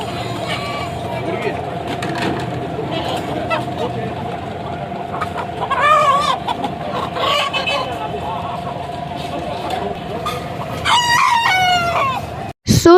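Desi chickens cluck and a rooster crows loudly several times over a steady hum at a karahi restaurant in Karachi, with voices talking in the background.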